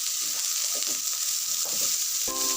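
Diced potatoes seasoned with salt and turmeric sizzle steadily in hot oil in a Bengali home kitchen, a constant bright hiss with soft stirring scrapes, and a brief metallic clink near the end.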